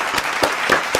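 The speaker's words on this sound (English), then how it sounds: "let's clap it up for the sack game" A few people clap together at a football watch party for the Dallas Cowboys versus the Los Angeles Rams, celebrating a sack; short, sharp bursts of applause sound close and lively.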